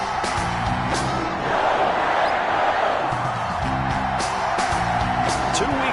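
In an EA Sports NFL video game, a stadium crowd roars and cheers before a Los Angeles Chargers versus Green Bay Packers matchup, a loud, sustained wash of noise that swells partway through, mixed with game audio and voices.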